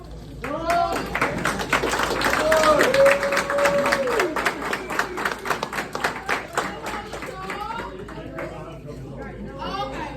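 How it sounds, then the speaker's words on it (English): An audience at a welding campus visit by a career and technology center claps in scattered, uneven bursts while people chatter and a voice speaks over the noise. "Y'all clap when y'all hear these people's names"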